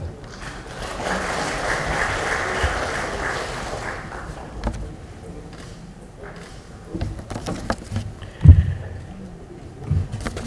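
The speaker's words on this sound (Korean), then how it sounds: "큰 박수로 가져주시기 바랍니다." Applause from an audience of lawmakers at a Democratic Party legislators' workshop, a steady broad wash of clapping for the first four seconds that thins out into scattered claps and room noise, with a sharp bump near the end.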